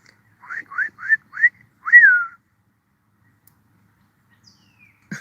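A person whistles to imitate bird calls: four short rising chirps in quick succession, then one longer sliding whistle, close and clear. Near-silence follows, with a faint click at the end.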